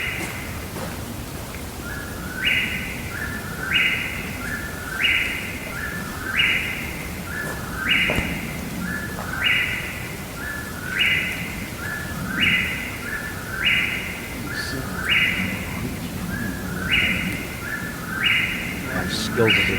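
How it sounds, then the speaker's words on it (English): A bird in the woods calls over and over in a steady rhythm of bright two-part phrases, moderately close, above a constant hiss of background noise, with no pauses between calls. "That bird would not shut up."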